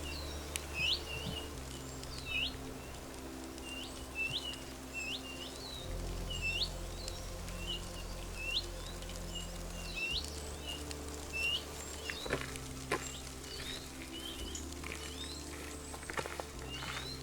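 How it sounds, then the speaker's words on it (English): Birds sing all around in a small forest in Glen Lyon, Scotland, with repeated bright chirps and calls over a steady low rumble and faint footsteps. "The sounds of the birds all around was incredible."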